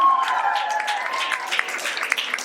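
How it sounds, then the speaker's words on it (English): Audience at a Big Brother meet-and-greet in a New York venue applauding, a steady wash of clapping hands for a couple of seconds with little talk. "Big round of applause for Joe and Paul from Big Brother Party"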